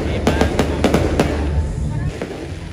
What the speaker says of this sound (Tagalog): paglabas namin, may fireworks sa labas